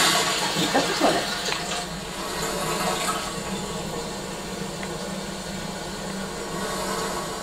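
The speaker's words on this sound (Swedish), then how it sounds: "Spola igen." A toilet flushes in the horror video game Infliction, a steady rush and gurgle of water that runs for several seconds at moderate loudness.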